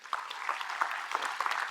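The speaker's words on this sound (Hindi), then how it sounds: "सबसे पहले अपने लिए ताली बजाइए" An audience of students in a lecture hall applauding, a dense burst of steady clapping throughout.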